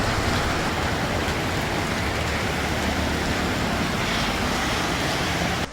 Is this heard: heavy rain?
yes